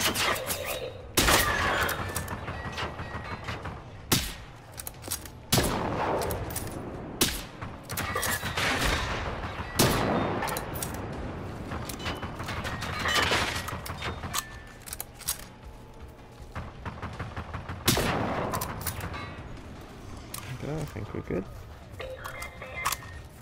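Gunfire in the video game Generation Zero, repeated sharp bursts and single shots at irregular intervals, some loud and close, others more distant, over a low ambient bed with a voice talking between them.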